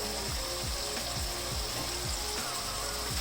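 Mutton liver with yogurt fries in a pan with a continuous dense sizzle, while a utensil scrapes the pan in a quick, regular stirring rhythm close by. No one speaks.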